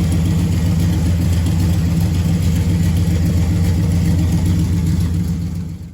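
A 1967 Dodge Coronet V8 with a leaking 727 transmission idles steadily up close, a loud, even, low rumble throughout that trails off slightly at the end.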